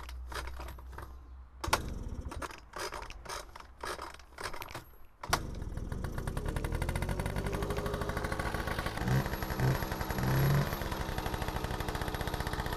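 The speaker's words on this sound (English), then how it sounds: "It runs. The motor sounds really smooth." A Honda NC50 scooter engine, started after 20 years of sitting in a shed, first sputters in uneven bursts, then settles into a steady, loud, rapid idle rattle.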